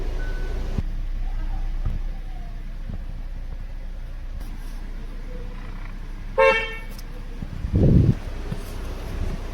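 A Hyundai Kia Sportage with a battery discharging problem idles after a jump start, giving a low, steady engine hum. A short horn-like toot and a brief thump break in near the end.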